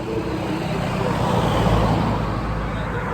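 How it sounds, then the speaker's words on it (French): Sponsor cars of a cycling race passing by on a road, a continuous roar of vehicle and crowd noise, loud and steady without clear breaks. "Voiture de sponsor, voiture de sponsor."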